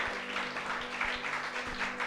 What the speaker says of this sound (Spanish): Dale un aplauso al Señor, hermano